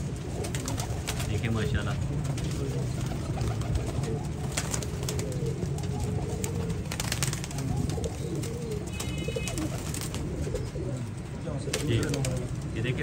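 Teddy pigeons, including a large Jonsira bird, coo softly and repeatedly amid steady background hum, with someone talking over them throughout.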